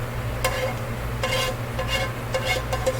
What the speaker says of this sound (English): I'm browning all that good olive oil and butter though.